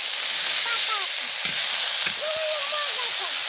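Potatoes fry in a hot pan with a dense, continuous sizzle and crackle, joined by a few scraping stirs of a utensil and faint voices in the background.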